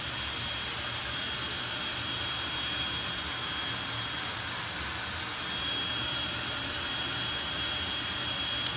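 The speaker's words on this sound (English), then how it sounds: "this is the second run of the jet car at USC" A jet car's engine roars at a drag race at Santa Pod Raceway, a loud, steady, unbroken blast that holds at full intensity from start to finish with no voices over it.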